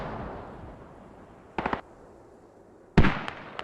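Mortar shells exploding during a clan battle in a war video game, two sharp blasts, the first a quick burst of cracks and the second louder with trailing echoes, over a low background rumble.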